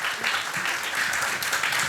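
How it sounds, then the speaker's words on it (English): Audience applause for the speakers at an education panel, brief and steady crowd clapping at moderate loudness. "A round of applause, please, for our speakers."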